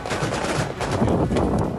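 Fighters fire on Ukrainian troops in Mariupol in wartime, rapid, dense bursts of automatic gunfire crackling close and loud without pause for nearly two seconds.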